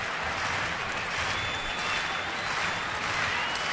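Crowd of about 34,827 at a Friday night Mets–Nationals baseball game in Washington makes noise in the bottom of the seventh, a steady distant roar of cheering and clapping, fairly faint and without clear talk.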